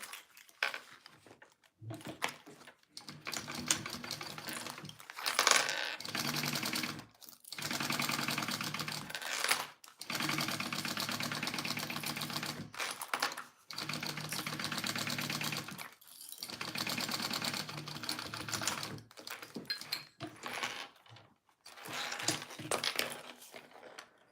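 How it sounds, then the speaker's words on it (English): A sewing machine bastes a fabric pouch gusset in several bursts of rapid mechanical stitching, each several seconds long and separated by short pauses, up close and fairly quiet. "So now we just need to baste this gusset all together."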